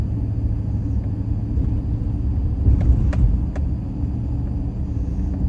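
A car drives past at night on a city street in Jackson, Mississippi, a steady low engine rumble swelling slightly midway and fading, with no talk over it.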